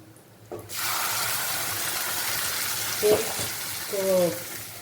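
Ground paste and spices for butter chicken hit hot oil with a sudden loud sizzle after a brief quiet start, then keep frying steadily with a few light stirring clinks and a short voice near the end.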